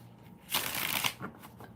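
Tarot cards riffle through one quick shuffle lasting about half a second, a loud bright burst of papery flutter with a few softer flicks after it, close by and with no voice.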